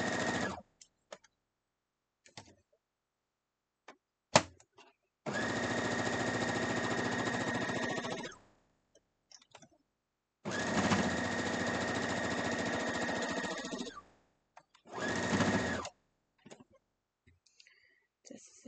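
A sewing machine stitches Harry Potter quilt blocks in three loud, close bursts of several seconds each, separated by quiet gaps with small handling noises.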